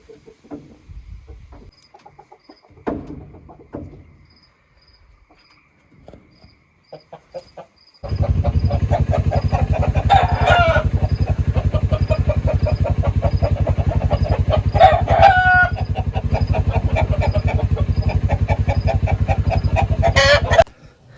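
Roosters crow loudly and repeatedly over steady clucking and a constant buzz of insects, after a quieter stretch of scattered bird calls.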